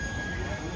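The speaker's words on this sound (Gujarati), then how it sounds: "ટ્રેન ચાલુ થઈ ગઈ" Train wheels squeal with a steady metallic whine over low rumbling as a train starts moving, heard close and continuous for a brief moment.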